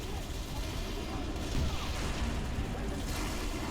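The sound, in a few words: explosions in the video game Halo Reach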